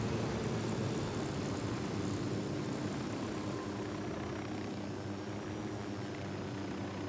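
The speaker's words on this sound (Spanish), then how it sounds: "Le estoy siguiendo con un helicóptero." A helicopter in the video game Ghost Recon Wildlands flies nearby, its engine and rotor giving a loud, constant, dense roar that holds steady throughout.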